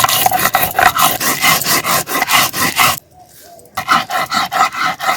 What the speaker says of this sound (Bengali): প্রথমে আমি বেটে নিচ্ছি ধনে।